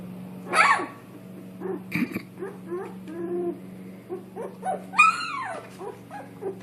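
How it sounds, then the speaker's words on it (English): Dogs playing together, with yips, whimpers, short barks and low growling rumbles in irregular bursts, fairly close and loud over a steady background hum. "They're starting to play with each other. Yes, and bark and growl."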